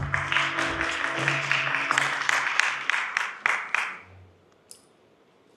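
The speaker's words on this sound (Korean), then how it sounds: "큰 박수 부탁드립니다." Applause from an audience with a few distinct louder claps, tapering off and falling quiet after about four seconds, with faint murmuring underneath.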